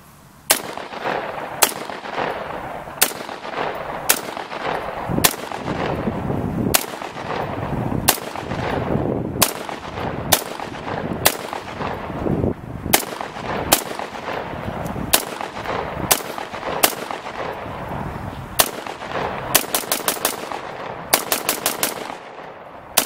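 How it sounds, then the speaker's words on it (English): A Faxon ARAK-21 rifle fires .223 ammunition at a range, sharp loud single shots spaced about a second apart, with a quick string of shots bunched near the end. "I'll video him shooting it too, and see how it shoots with the 223 though."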